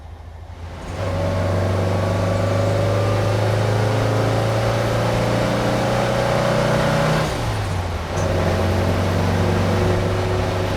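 Inside a lightweight Porsche 911 hotrod, the engine accelerates in fourth gear with a loud, steady, rising drone. The pitch climbs gradually, briefly dips at a shift, then resumes, with no one speaking.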